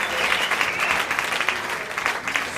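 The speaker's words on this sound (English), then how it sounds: "Let me hear you clap if you don't have kids." A comedy roast audience claps steadily throughout, a dense continuous wash of applause from a large crowd with no clear voices on top.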